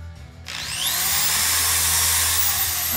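Makita power tool, likely a drill, spinning up after a short quiet start into a loud, steady high whine that holds close and constant.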